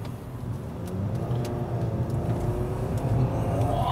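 A 2023 Nissan Sentra accelerates hard, heard from inside as a low, rising engine rumble and road noise that swells steadily over a few seconds.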